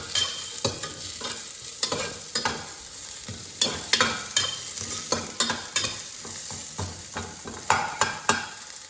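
Onions frying in a little oil in a pan for mutton sambar, a steady sizzle broken by frequent scraping stirs of the spatula, close and fairly loud, with no voices.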